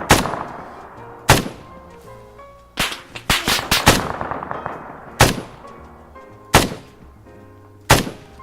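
A .50 caliber machine gun firing in a video game, sharp, loud single reports spaced irregularly, with one brief cluster of rapid shots in the middle and reverberant tails after each.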